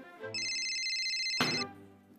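Phone ringtone on a morning call, a bright electronic tone held for about a second with a sharp click near its end, alone and close.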